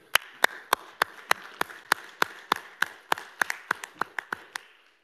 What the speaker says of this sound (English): wanted to take this opportunity and just give you a round of applause